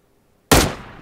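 An M16 rifle fires in the mobile game PUBG Mobile: after a near-silent moment, one sharp, loud blast cracks out and then decays quickly into a short echoing tail.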